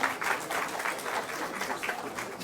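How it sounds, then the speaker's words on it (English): Conference audience gives a warm round of applause, a moderately dense patter of many hands clapping in slightly uneven waves, heard from within the hall, steady and unbroken by speech. "Would you please give Professor Atikul Islam, our Vice Chancellor, a warm round of applause"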